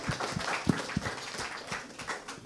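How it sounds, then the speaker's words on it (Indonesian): An audience claps for Anies and Sandi at an event, a dense, steady patter of applause with a few louder claps standing out near the start. "Tepuk tangan dulu untuk Mas Anies dan Bang Sandi"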